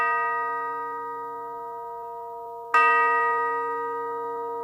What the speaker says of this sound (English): The clock began to chime.